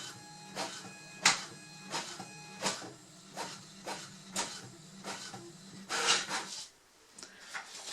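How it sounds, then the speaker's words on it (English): An inkjet-style printer running off a heat-transfer times table sheet, with repeated sharp mechanical passes and clacks at a quick, uneven rhythm, close and clear with no talking. "Just waiting for the information to send to the printer."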